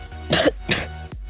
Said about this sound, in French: Désolé si je tousse, mais je suis malade